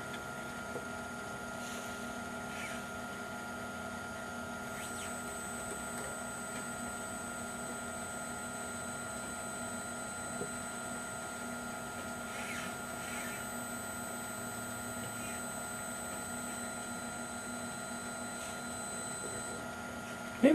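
An electric motor runs steadily during a 36 volt, 5 amp current-limited torque test, giving a constant faint tonal hum and whine with no speech.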